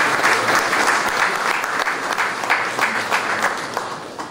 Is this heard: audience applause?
yes